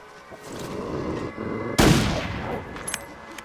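A single sharp rifle shot cracks out in a snowy wilderness survival game and fades into a short echo, with quieter game ambience before and after.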